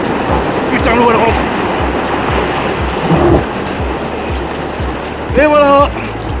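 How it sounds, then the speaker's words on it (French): Loire river water rushing into a boat makes a loud, continuous roaring wash with a close, rough texture, and someone speaks briefly over it. "l'eau elle rentre"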